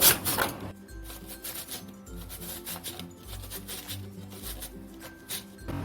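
Potatoes scraped against a grater into long thin strips for jhuri alu bhaja, a steady run of close, rasping strokes with a loud clatter at the start.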